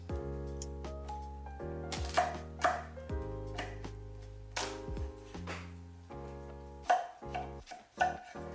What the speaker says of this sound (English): cut the pumpkin in half and then halve it again to make 4 evenly sized quarter